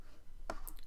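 A single sharp mouse click on a sudoku app's solve button, brief and close, standing alone against quiet room tone.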